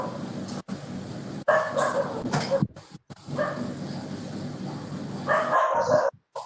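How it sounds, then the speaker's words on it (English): A dog barks and yips repeatedly in the background through a noisy, band-limited line, with bursts of barking scattered across the stretch and brief dropouts. "dog is also barking"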